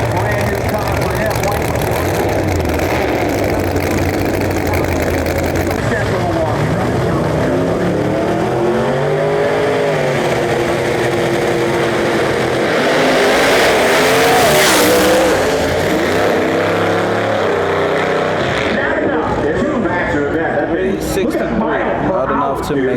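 A drag race car makes a full-throttle run at an outlaw nationals event, its engine roaring loudly and continuously under excited commentary, with the pitch sweeping as it accelerates down the track.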